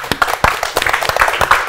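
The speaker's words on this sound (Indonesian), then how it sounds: "Tepuk tangan buat Peter Pan nih." Scattered applause and clapping for a Peter Pan performance, a fairly close burst of uneven hand claps lasting under two seconds with no talk over it.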